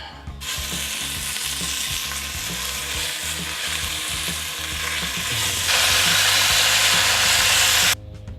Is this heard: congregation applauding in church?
no